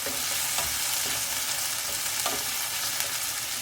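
Onion, garlic and ginger fry in oil in a pan for an eggplant bhartha, giving a steady close sizzle throughout with a few light stirring scrapes.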